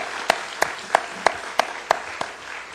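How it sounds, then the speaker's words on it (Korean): A church congregation claps in unison, about seven sharp, evenly spaced claps in a slow steady rhythm, moderately loud with quiet room tone between beats. "하나님께 존귀와 영광의 박수를 올려드리도록 하겠습니다."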